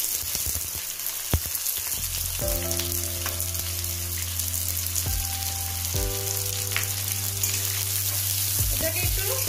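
Onions fry in a pan for a dhaba-style egg tadka, a loud continuous sizzle up close with scattered stirring scrapes and a low sustained hum running through part of it, no voices.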